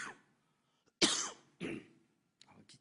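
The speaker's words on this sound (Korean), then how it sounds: "기침 거의 멈췄었는데" Three sharp coughs from a single person, near and fairly loud: one faint start, then two strong bursts about half a second apart, followed by a softer throat sound.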